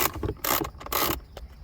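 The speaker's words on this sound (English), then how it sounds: "Take a T20 Torx and we'll undo all 4 bolts." T20 Torx bolts being loosened from the center console of a 2020 Nissan Versa, with a few short close metallic clicks and scraping bursts from the driver and bolts in quick succession.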